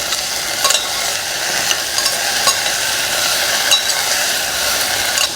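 Vegetables for a Brahmin-style vegetable kurma are stirred and mixed in a pan, a steady scraping and soft sizzle with occasional sharper utensil knocks, close and continuous without any talk.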